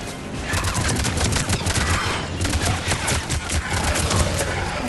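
Rapid gunfire in Mass Effect 3, a dense burst of overlapping shots and crackling impacts, loud and close with no pause, and no voices heard.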